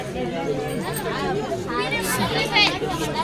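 Crowd chatter at a temple in Mount Abu: a dense, steady babble of many voices close around, with no single voice standing out and a few louder calls rising near the end.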